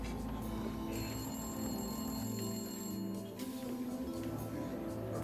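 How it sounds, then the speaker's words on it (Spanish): A telephone ringing in a hotel bar, heard faintly through a dense, busy background hum with bell-like tones recurring across the stretch. "En el momento justo, sonó el teléfono."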